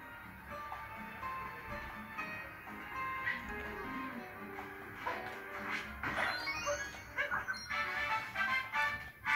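A dog in Super Mario Odyssey gives a string of short, yappy barks and whimpers over playful game music and crashing effects, growing busier and louder toward the end.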